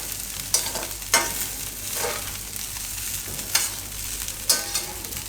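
Suran (elephant foot yam) mixture is stirred in a pan over a low gas flame with a soft steady sizzle, a spoon scraping through it in repeated strokes about once a second.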